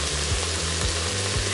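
Spices hit the hot insert of an Instant Pot with a steady, close sizzle, while periodic scraping tones from stirring repeat underneath.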